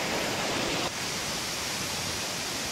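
The tall Marleshwar waterfall in Konkan pours in a constant broadband rush, loud and steady, dipping slightly in level after the first second but otherwise unbroken and free of talk.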